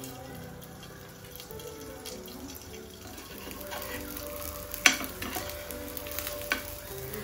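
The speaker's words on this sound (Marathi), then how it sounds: "सो इथे मी तेल गरम करायला ठेवलंय. त्याला आपल्याला शॅलो फ्राय करून घ्यायचं आहे" Hot oil shallow frying in a pan, a soft steady sizzle with clinks and stirring noises and one sharp knock midway, the background faint and indoor.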